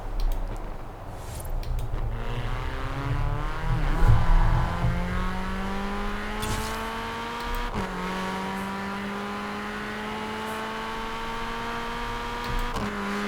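A Mini Cooper JCW Countryman ALL4 in Forza Horizon 4 revs hard, its engine pitch climbing then easing off, with sharp exhaust crackles and pops on lift-off, loud and close with no talk.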